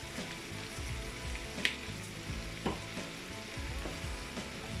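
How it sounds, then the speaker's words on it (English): Lamb stew being stirred in a pot over steady frying and sizzling, with a few sharper clinks of the spoon against the pot; close and continuous, with no talking. "Just giving this a mix."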